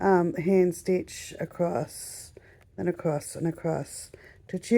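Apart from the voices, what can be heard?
No distinct noise like a dog, phone or traffic.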